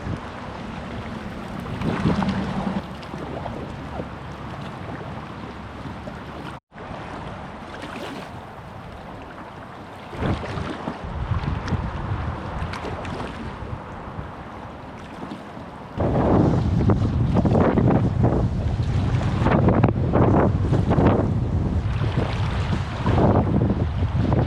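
Strong wind gusts buffet a packraft on water in a valley, a steady roaring rush with microphone buffeting that swells louder and rougher in the second half, no voice heard.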